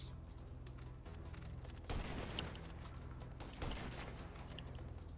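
Rapid overlapping gunfire from a group of players in GTA V Online, dense sustained volleys with two louder bursts standing out, all loud and close.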